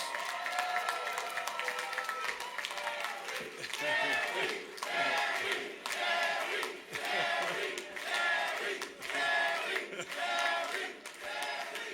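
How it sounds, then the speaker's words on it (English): A large crowd at a political victory rally cheers and applauds steadily, with shouts rising in repeated waves over continuous clapping. "Give yourselves a great round of applause."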